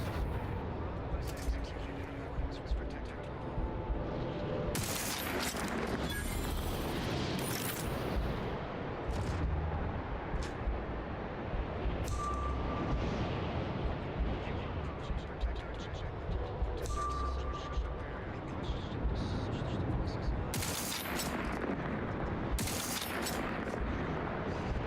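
Sci-fi gunfire from the video game The Outer Worlds 2 cracks out in scattered sharp bursts, some in quick clusters, over a busy layer of game sound.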